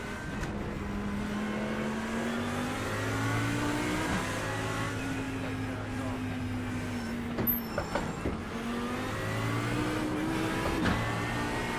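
GT3 race car engine in an iRacing sprint at Road Atlanta, a steady low droning hum with harmonic whine that rises and falls through gear changes, sounding rough and bus-like, continuous throughout with no talk.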